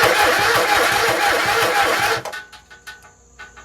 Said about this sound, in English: it takes a lot to crank it, as you can tell